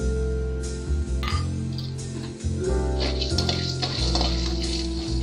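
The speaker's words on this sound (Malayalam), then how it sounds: "ഇനി ഇതിലേക്ക് നമുക്ക് ജീരകവും കുരുമുളകും കൂടെ ചേർത്തൊന്ന് വറുത്തെടുക്കാം." Cumin seeds and black peppercorns dry-roast in a pan, giving a steady sizzle with stirring scrapes and light clinks throughout, close and fairly loud over a constant low background hum.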